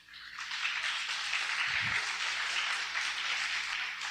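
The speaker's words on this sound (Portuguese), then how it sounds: "Aplauda bem forte ao Senhor." Church congregation applauds in a steady, dense wash of clapping that builds quickly and holds at moderate volume to the end.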